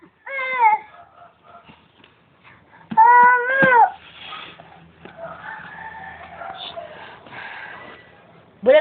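A cat meows in a home setting, a few drawn-out wavering cries with quiet gaps between them, close and fairly loud, with faint background noise.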